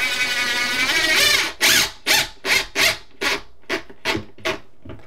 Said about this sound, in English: gonna use 2-inch cabinet screws to get into the studs